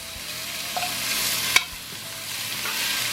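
A pound of bacon frying in a pot as its fat renders out, with a steady bright sizzle, occasional stirring scrapes and a sharp clack partway through, no speech.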